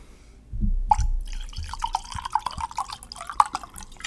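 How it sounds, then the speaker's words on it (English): A drink is poured out with a wet, gurgling trickle and a few bright drips, close and fairly clear, running for about three seconds after a short muffled knock. "Let's have a moment of silence for the pour."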